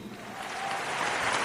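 Audience applause at a Bundeli festival comedy show in Badamalhara, a steady, dense clapping that builds slightly and fills the whole moment without any voices.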